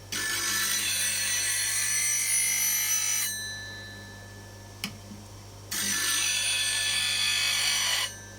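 A woodturning gouge is sharpened against a spinning grinding wheel, giving two long, loud bursts of harsh grinding hiss separated by a quieter pause with the wheel still humming and a brief tap.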